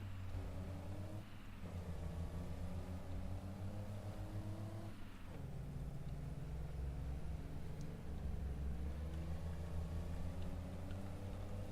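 A truck engine in Farming Simulator 22 hums in a low, steady drone that stays loud and close throughout, with slight swells in pitch and no talking.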